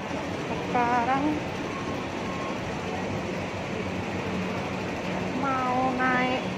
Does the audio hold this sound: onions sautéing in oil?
no